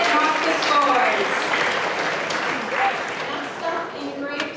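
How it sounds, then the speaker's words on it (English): Audience applause for a grade 9/10 student spoken word poet at a school poetry finals, a sustained dense crowd clapping at steady loudness that tapers slightly toward the end, with some voices mixed in. "Applaud the poet, not the scores."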